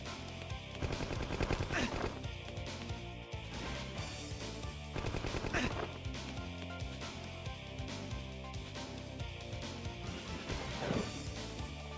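Continuous gunfire from the Eureka Seven vol.1 video game, sniper rifle shots among dense rapid bursts and booms layered over a constant loud mix of music and effects, with no clear pauses.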